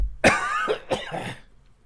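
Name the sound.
cough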